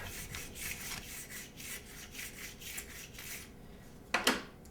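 Sharp scraper drawn across cooled ski wax, giving repeated rhythmic rasping strokes close by, followed by a louder, sharper scrape near the end.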